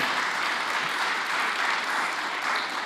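A large audience at a Norwegian political event applauds a speaker: dense, steady clapping that holds at an even level for the full stretch, with no voices over it.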